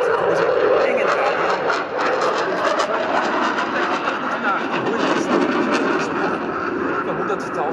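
A Eurofighter Typhoon jet fighter roars past at an air show with a loud, broad rushing thunder, heard under continuous German commentary over a public address.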